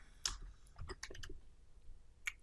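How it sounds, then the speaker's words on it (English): A few quick, faint keystrokes on a computer keyboard in a quiet room, a short cluster of clicks followed by one more tap. "when we go to our browser and then we type PHP"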